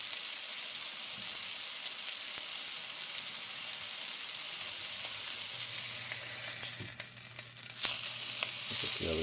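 A small ground beef and pork patty fries in oil in a pan, giving off a steady, dense sizzle that holds throughout with faint scraping toward the end.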